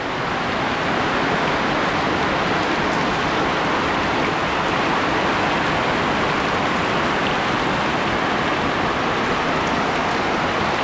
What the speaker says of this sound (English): then we could see the rain from the distance. And now it's just pouring